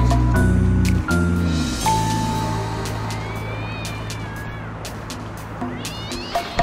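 In the video game Sly Cooper 2, a cat meows several times over the game's music and ambient sound, fairly loud and close.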